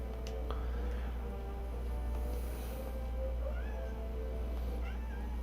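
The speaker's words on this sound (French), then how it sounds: "On a un chat qui fait des siennes." Cat meowing in short rising calls over a steady low hum and background game sound, several meows spread across the stretch, moderately near.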